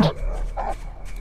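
A dog in a horror video game gives a couple of short, close yips and barks in quick succession over a low background rumble.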